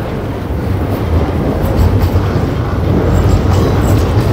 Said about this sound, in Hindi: ये ऊपर क्या जा रहा है इतना जोर से? ट्रेन,